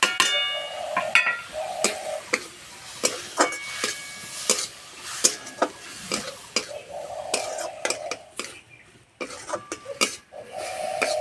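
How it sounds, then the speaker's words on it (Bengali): Pointed gourd sautéing in a pan with garam masala, chili, cumin, turmeric and Maggi masala: a steady sizzle under repeated scraping and tapping of a spatula against the pan. "মশলার সঙ্গে পটল কষানো হয়ে গেছে"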